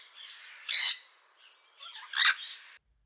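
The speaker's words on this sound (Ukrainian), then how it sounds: "Папуга." A parrot calling with harsh, raspy chirps and two louder squawks, close and clear, with no voices.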